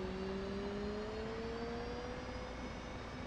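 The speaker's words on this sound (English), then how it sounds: "you're going to hear that right engine spool up" An F/A-18C jet engine spooling up in the DCS World flight simulator gives a constant, roaring turbine wash with a thin whine that climbs slowly in pitch. The sound is steady, with no voices.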